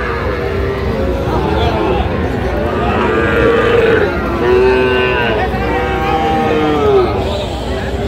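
Cattle, including small bulls and heifer calves, moo at a livestock market in Nawabganj, Dinajpur. Several long, loud, close moos overlap in the middle, over a constant hubbub of crowd chatter and voices.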